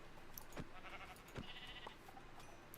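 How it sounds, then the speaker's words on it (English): A sheep in Minecraft bleats faintly in a farm paddock setting; two short bleats over a quiet background hum, no voices present. "there seems to be another sheep somehow got itself stuck in that bit"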